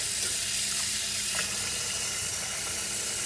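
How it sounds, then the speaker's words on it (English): Cold tap water runs steadily into a sink as mushrooms are rubbed clean under it while making vegetable spring rolls, a continuous broadband hiss with faint splashes and no talk. "So we're gonna, the cold water, and we want to sort of just rub the mushroom to make sure there's no debris on it."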